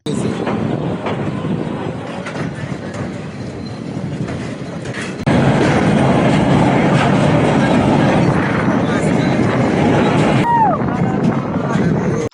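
A train runs on the Chittagong to Cox's Bazar railway line, a single-line dual-gauge track, with a steady broadband rumble and rattle that grows louder partway through and a brief wheel squeal near the end.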